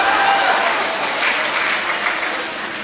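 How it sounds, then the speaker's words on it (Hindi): Mushaira audience giving a poet loud, sustained applause, a dense crowd wash of clapping that stays strong and even, easing slightly at the close. "जोरदार तालियों के साथ उनको"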